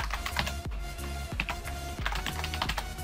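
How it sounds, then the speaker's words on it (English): A name is typed on a computer keyboard: quick, close key clicks in a steady run, with soft music playing underneath. "So just type in your name."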